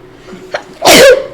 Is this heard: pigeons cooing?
no